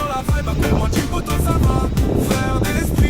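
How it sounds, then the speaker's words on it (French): Steady, loud wind buffets the microphone throughout, a rough rumbling roar with gusty bursts and no clear voice above it. "Désolé, il y a un peu de vent"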